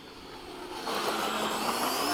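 During a touch and go, a distant RC jet aircraft gives off a faint, steady turbine whoosh that swells slightly in the second half of the short moment.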